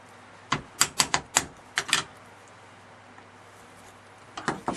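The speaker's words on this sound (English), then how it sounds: "I'm going to go ahead and stamp 2 or 3 of the larger ones" Rubber stamps pressed onto paper with black pigment ink make a quick run of sharp, close taps, about eight in two seconds. A quiet gap follows, then a few more taps.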